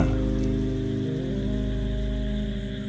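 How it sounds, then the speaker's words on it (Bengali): Steady rainfall makes a dense, even hiss with no distinct drops, mixed with low sustained musical tones throughout. "বৃষ্টি কমে গেছে"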